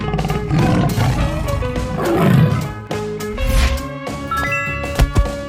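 A tiger roars in a 3D animal sliding video game, a loud, rough growl rising over busy game music and effects, with a few sharp thumps near the end.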